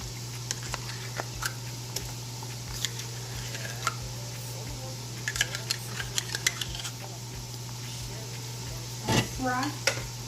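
Tomato paste stirred and fried in a pot for Nigerian chicken stew, a soft sizzle under steady scraping and clinking of a spoon against the pan, with a steady hum beneath and a brief louder clatter near the end.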